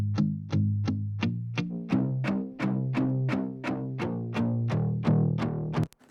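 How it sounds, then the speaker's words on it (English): An electric guitar played through a green screamer overdrive pedal picks a repeating run of distorted notes in a steady rhythm, each note ringing with a bright attack and quick decay, close and alone before cutting off abruptly. "Distortion from the green screamer is actually amazing."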